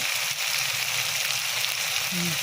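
Chilies frying in a pan with sugar, a dense, steady hiss of sizzling oil close up that holds without a break.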